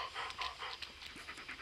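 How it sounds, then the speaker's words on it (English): A dog pants in the Blair Witch video game, quick, soft, breathy huffs in a steady rhythm, fairly close but quiet, with no talk over it. "Yeah, good dog."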